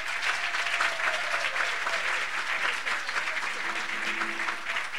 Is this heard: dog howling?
no